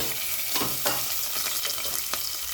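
Sesame seeds, green chilies, turmeric, dried chili and ginger sizzle in hot oil for a moga curry, a continuous bright crackling hiss with a few sharp pops and spoon scrapes, close and without speech.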